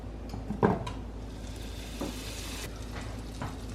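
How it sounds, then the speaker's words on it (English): Butter, heavy cream and brown sugar stirred together in a pan for a pumpkin praline sauce, giving a faint, steady wet scraping and bubbling hiss with a few soft utensil clinks near the start. "And you are gonna stir this together and bring it to a boil."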